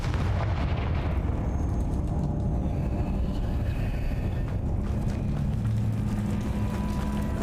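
Confringo blasting spell explosions in Hogwarts Legacy, rolling as a continuous loud rumble of booms and bursts with no voices over them.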